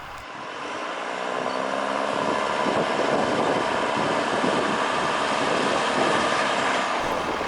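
A train rolls steadily toward a trestle bridge, a continuous rumbling of wheels and engine with a long, steady horn-like tone running beneath it for several seconds at fairly close range.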